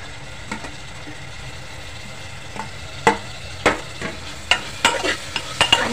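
Tomatoes and lightly fried onion sizzle in a pan with a low, steady hiss, and a run of sharp clinks and scrapes from stirring grows busier toward the end.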